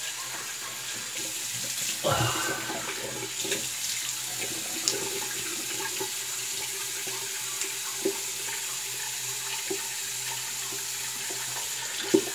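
A bathroom tap runs cold water into a sink while someone prepares for a wet shave. The flow is a steady, continuous rush with a brief louder surge early on, then occasional faint clinks.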